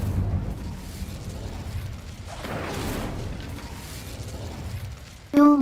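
An Incendio fire spell cast in Hogwarts Legacy, a loud sustained whooshing roar that swells in the middle and fades, followed by a sharp tonal chime at the end.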